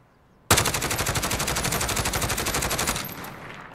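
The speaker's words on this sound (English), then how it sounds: "So now let's try to go into prone and fire this at full auto." A SIG SG 550 fires a long full-auto burst from prone in Call of Duty: Modern Warfare, a loud rapid stream of gunshots that begins abruptly, lasts about two and a half seconds and then stops, leaving a fading tail.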